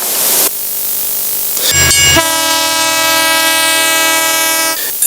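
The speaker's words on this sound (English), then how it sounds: "The blaring sound of the locomotives" A locomotive horn blares with steady harmonic tones over rumbling rail noise, sounding loud and close. The horn holds for several seconds and then cuts off, leaving train noise beneath it with no talk.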